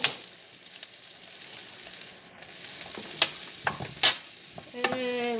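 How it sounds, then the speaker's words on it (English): Mushrooms sizzle in butter in a pan, a steady low frying hiss broken by a few sharp clatters and scrapes as they are tossed in and stirred, ending with a brief tonal clink. "we're going to throw the mushrooms in here."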